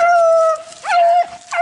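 Beagles on a rabbit track give a drawn-out baying howl with a couple of higher yips, the dogs close by and loud, with no voices.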